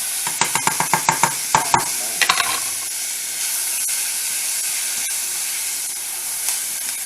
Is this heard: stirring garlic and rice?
yes